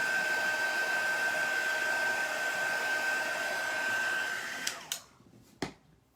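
Hair dryer blowing steadily up close on chalk paint over a vintage truck craft piece, a loud continuous whir that cuts off near the end, followed by a couple of light knocks.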